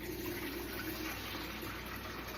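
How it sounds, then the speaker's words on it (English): Filtered water pours steadily into a container beside a kitchen sink, a continuous, even rushing splash with no pauses and no talking. "I have a container that I'm going to put part water in."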